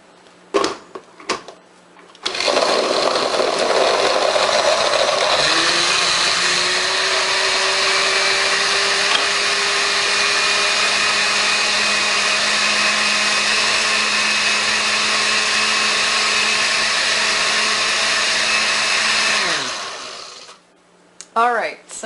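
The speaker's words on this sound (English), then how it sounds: "and they'll be easier for the blender to handle." A regular, non-high-speed blender blends a pear and blueberry smoothie with greens in a long, steady, loud motor whir that settles into a higher hum as the contents break down. Short clicks and handling noises come at the start and end.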